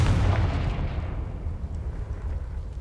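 Confringo blasting spell explosion in Hogwarts Legacy on PC, a single loud, close boom that opens the clip and then decays into a long rumbling tail.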